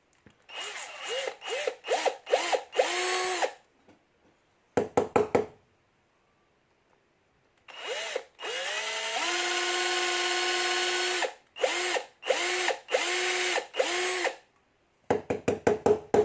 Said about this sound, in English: but I might have to drill it right out.